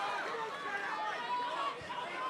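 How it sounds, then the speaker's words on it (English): Crowd at a corporate boxing fight night roaring and chattering steadily, a dense continuous wash of cheering voices with no single speaker standing out. "the crowd is going nuts"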